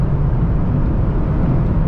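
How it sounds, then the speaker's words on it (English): A Mazda MX-5 Miata RF GT with an automatic transmission, its engine revving high from inside the cabin, a loud, steady, unbroken drone. "Engine loves revving up high like it does right now"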